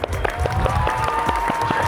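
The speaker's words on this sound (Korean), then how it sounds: "박수!" An audience claps and cheers at a KBL youth elite basketball camp event in Yanggu. The applause is steady and dense, with sharp overlapping claps and crowd noise throughout.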